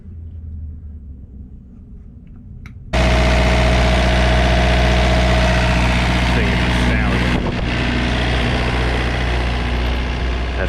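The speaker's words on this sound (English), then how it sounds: "Now I guess we'll fire this unit back up, make sure it don't blow up." A Kohler/Yanmar 20kW turbodiesel RV generator, after a few seconds of quiet background hum, fires up and runs at a loud, steady, droning idle close by, with a brief change in tone midway.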